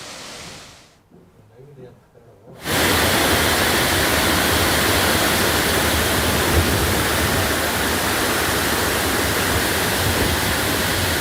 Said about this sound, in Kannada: 100 ಅಡಿ ಎತ್ತರದಿಂದ ಜಲಪಾತ ಧುಮ್ಮಿಕ್ತಾ ಇರುವಂತಹ ದೃಶ್ಯಗಳನ್ನು ಕೂಡ ಗಮನಿಸ್ತಾ ಇದ್ದೀರಿ